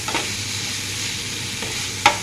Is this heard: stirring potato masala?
yes